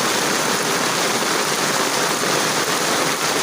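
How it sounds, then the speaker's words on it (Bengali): Heavy monsoon downpour pours steadily as a dense, loud, continuous hiss of rain striking surfaces, with no break or voices. "যাকে ভারী থেকে অতি ভারী বর্ষণ বলা হয়"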